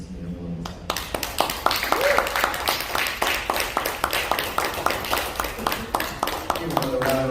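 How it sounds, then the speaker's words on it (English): Applause from a workshop audience at a poetry reading, a steady run of sharp claps lasting several seconds before fading. "Give another round of applause to Ms. MORI."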